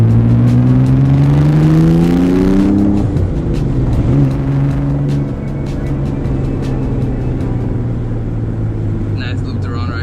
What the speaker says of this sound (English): what is it like driving a twin turbo 300ZX?